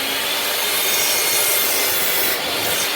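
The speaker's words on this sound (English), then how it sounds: "I'm gonna cut these corners out." A saw set to a 45-degree miter cuts out the corners of a wooden serving tray, producing a steady, close, raspy hiss of cutting that holds without a break for about three seconds.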